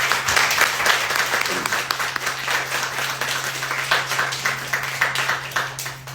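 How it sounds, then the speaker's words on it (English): At an artist talk in a gallery, the audience claps for the host and artist, a lively burst of hand clapping that holds steady over a low electrical hum and gradually thins out. "Can we give our host and artist a round of applause?"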